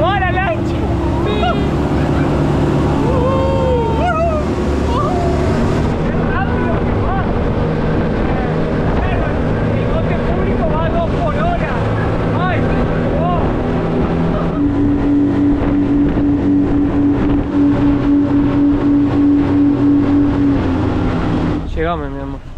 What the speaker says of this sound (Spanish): Qué rápido que va la lancha.